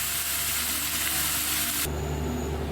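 Potatoes frying in a pan hiss loudly and steadily as they are tossed, and the bright sizzle drops off abruptly partway through while a lower frying hum carries on.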